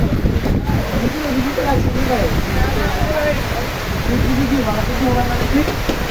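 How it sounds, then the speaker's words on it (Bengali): Heavy rain falls beside a riverside fish market at Hasail Bazar, a dense, loud, unbroken roar of broadband noise running throughout, with a voice speaking over it. "ভালোই বৃষ্টি হচ্ছে।"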